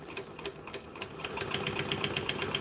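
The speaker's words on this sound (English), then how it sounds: "I am now going to stitch and back stitch because we always do that." A domestic sewing machine stitches forward and then back stitches, a quick, even mechanical chatter of needle strokes, close and steady with no voices.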